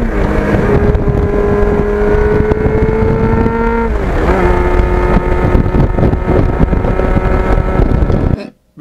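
A 1989 Kawasaki GPX750R motorcycle being ridden, its engine note climbing steadily through a gear, dipping at a shift, then pulling again, loud and close with wind rush, cutting off at the end.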